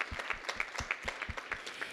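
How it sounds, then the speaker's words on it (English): A small audience at a professional communication talk claps, a loose sparse patter of individual hand claps with a few close, sharp strikes standing out in an uneven rhythm. "I wanna give a great round of applause to these rock stars again."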